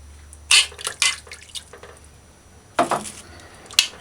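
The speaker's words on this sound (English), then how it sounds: "Three cups of water." Water poured into a pot for a home-cooked beef pot roast, heard as a few short, close splashing and dripping bursts separated by quiet pauses.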